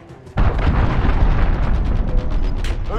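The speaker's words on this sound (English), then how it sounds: "Allied cruise missile away." Cruise missile strike exploding in Call of Duty, a sudden loud blast that gives way to a long, heavy rumbling roar of debris and fire lasting several seconds.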